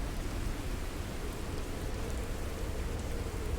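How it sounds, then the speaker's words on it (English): Radiation rain in the video game Fallout 4 pours down as a dense, steady hiss of rainfall, unbroken and fairly loud throughout with no voices. "the radiation rain is extremely deadly"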